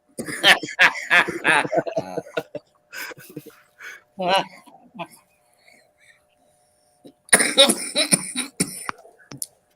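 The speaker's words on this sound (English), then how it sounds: "over there choking and coughing" Several people coughing and sputtering in bursts, mixed with whispery voices, breathy noises and short stretches of talk.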